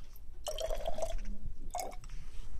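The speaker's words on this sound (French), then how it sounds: "Alors on va verser 15 ml dans l'éprouvette." Liquid poured from a glass beaker into a graduated cylinder in a lab, two short bursts of trickling, splashing water about a second apart, close and moderately loud.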